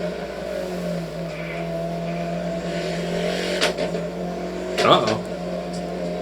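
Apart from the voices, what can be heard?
race car engine cutting out, possible fuel cut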